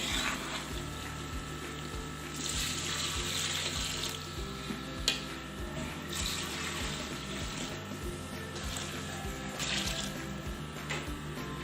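About 3.5 litres of water pours steadily into a pot of fried white chickpeas while cooking a Pakistani-style chana pulao, a continuous close rushing and splashing flow with no talk.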